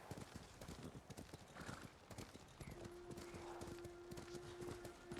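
Hooves of a horse in Ghost of Tsushima clatter in a rapid, steady galloping rhythm, fairly quiet and continuous, joined midway by a sustained tonal game sound.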